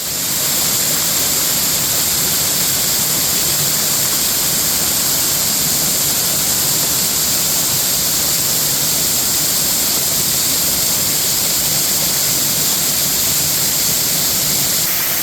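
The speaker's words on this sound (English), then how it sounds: "Let's go behind the waterfall." A waterfall at Broad Mountain roars loudly and constantly at close range, a dense, unbroken rush of falling water that holds steady with no talk over it.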